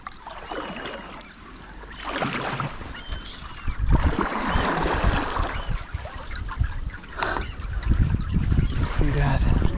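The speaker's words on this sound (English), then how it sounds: "look at it dripping under there" Meltwater trickles and drips steadily from ice at a glacier lake near Valdez, Alaska, a close, continuous watery patter with occasional splashy swells and faint voices now and then.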